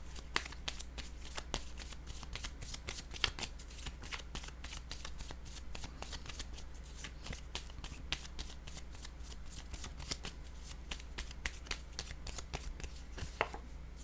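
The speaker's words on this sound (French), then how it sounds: "je vais prendre une carte pour ici et une autre pour là" Tarot cards shuffled and handled for a reading, a long close run of quick papery riffles and flicks that continues steadily with no speech over it.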